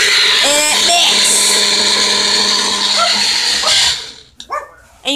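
A countertop blender whirs loudly, mixing almond milk into a banana protein smoothie, a dense steady roar for about four seconds before stopping, with brief voices around it.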